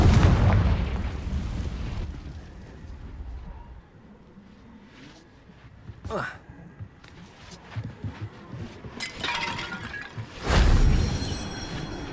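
A Confringo fire spell cast in the Hogwarts Legacy video game, bursting with booming blasts among game sound effects, a sharp crack midway and a loud explosion near the end.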